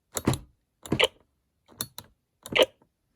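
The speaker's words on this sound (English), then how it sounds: "when you press it, it makes a clicking sound" Four short, sharp clicks spaced evenly about every 0.8 seconds, each a crisp plastic snap of the springy on-off button on a Nerf Lazer Ops Pro Delta Burst toy blaster, close by with silence between.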